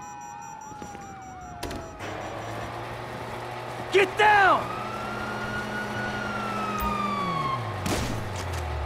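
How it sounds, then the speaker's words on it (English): Police siren wailing in GTA V gameplay, rising and falling warbles over a steady low rumble of engines and ambient city noise, with sharp bursts and shouted voices around it. "you hear that? Siren!"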